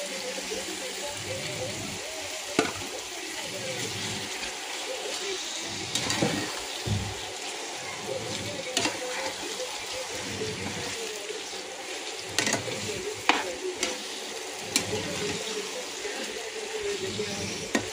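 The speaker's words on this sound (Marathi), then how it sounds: "आता आपलं मॅरिनेट केलेलं चिकन टाकूया ह्याच्यात" Marinated chicken sizzles and fries in a pan with onions for a green chicken masala, a steady crackle close by. Stirring clatters over it, and a voice talks now and then.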